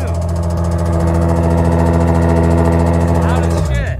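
An Infiniti G35 drift car with no muffler idles loudly and roughly, a deep droning rumble close by that holds steady before dropping off near the end, with people reacting in the background.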